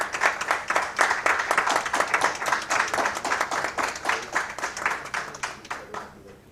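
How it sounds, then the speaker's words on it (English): Applause at an MoU signing ceremony between IIT Indore and a family foundation, a small group clapping in a distinct, fairly regular rhythm of separate claps that fades away near the end. "I request all dignitaries and members of the audience to join me in a heartfelt round of applause"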